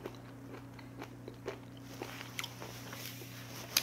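Close, quiet crunchy chewing of raw horned turban sea snail sashimi, soft irregular bites and crunches repeating over a steady low background hum.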